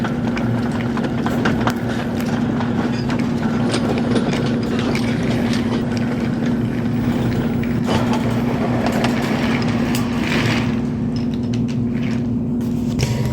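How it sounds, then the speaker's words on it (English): A Class 40 locomotive slowly pulls a freight train, giving a steady engine drone under continuous rhythmic clanking and clicking of wheels and couplings, loud and close throughout. "Class 40 slowly slunked out with his freight train."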